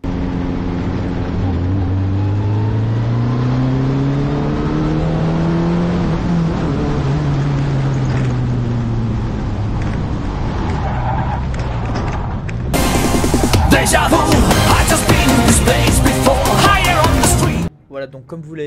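Formula Renault race car on a straight, engine note rising and falling through gear changes, then a sudden loud burst of tyre squeal and roaring engine as the car spins out, ending abruptly near the end.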